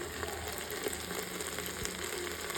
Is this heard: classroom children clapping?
no